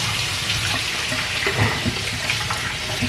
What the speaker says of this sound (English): Now I'm just gonna rinse